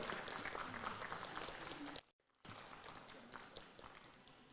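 Audience at a state house reception for a marathon champion in Kenya claps steadily in a broad, even patter of many hands, briefly dropping out before resuming at a similar level.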